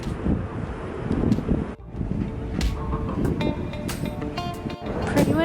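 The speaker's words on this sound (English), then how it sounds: "Pretty windy." Wind roars steadily across the open deck of a cruise ship sailing toward the Hubbard Glacier in Alaska, buffeting the microphone loudly throughout, with a brief lull near the middle and faint voices underneath.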